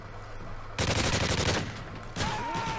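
Gunfire in the video game Call of Duty Modern Warfare 3: a short burst of rapid automatic shots lasting under a second over steady game background noise, followed by a fainter rattle.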